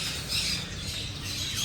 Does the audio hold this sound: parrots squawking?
yes